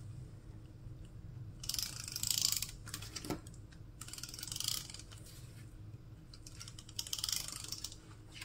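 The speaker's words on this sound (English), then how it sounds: "So I'm just gonna tape around the bottom and the two sides." Tape being pulled and pressed around the bottom and two sides of a Cricut-made gift card holder, giving three bursts of close, crackly tearing and unrolling separated by quieter handling.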